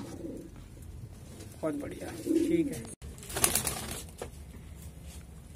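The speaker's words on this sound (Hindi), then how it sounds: "चेहरा कबूतरी का चोंच देख लीजिए" A pair of Lal Jeere pigeons coo softly in short, low rolling calls close by, with a brief wing flutter, while someone talks over them.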